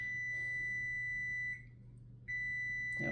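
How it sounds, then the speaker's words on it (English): A kitchen timer set while baking shortbread cookies gives a steady, piercing electronic tone. It runs almost the whole time, with one brief break near the middle and a soft clatter at the end. "I forgot to turn the timer off there."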